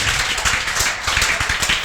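Students in a classroom clap loudly together, a dense, continuous burst of applause close by.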